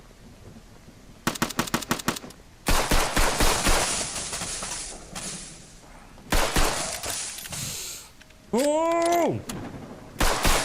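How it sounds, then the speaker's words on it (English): Random gunfire rings out in loud bursts: a quick run of sharp shots, then longer sustained volleys of rapid fire, separated by quieter gaps, with a brief exclamation and a sweeping whine near the end. "I don't know where that random firing is coming from."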